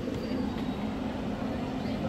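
A funicular railway car at Penang Hill, Georgetown, moving off with a low continuous rumble and faint wheel noise, heard at moderate distance, steady throughout with a soft background hum.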